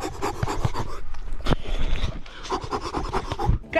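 A sick pet dog pants heavily and rapidly at close range in a workshop where an MTB dirt jump bike is being assembled, with a few rubbing and scraping noises mixed in and no talking.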